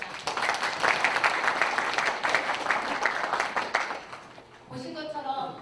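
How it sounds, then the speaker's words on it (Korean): At a city press event, a room of attendees applauds with brisk, dense clapping for about four seconds before it dies away and a voice begins speaking. "박수 부탁드립니다."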